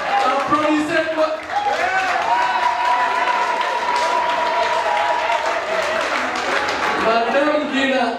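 Guests at a wedding evening party applaud steadily, a dense wash of clapping from a crowd with voices and cheers mixed in throughout.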